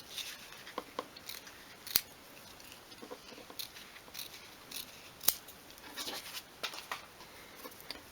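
Small scissors snip around the fabric cover of a 1/12 scale miniature garden stool, giving a steady run of quiet close crisp cuts with two sharper snips standing out.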